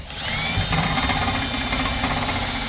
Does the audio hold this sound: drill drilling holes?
yes